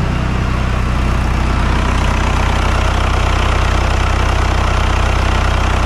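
A TDI diesel engine swapped into a 1985 Grumman Kubvan mail van idles steadily with a low, even rumble and faint clatter, loud and close throughout, with no talking.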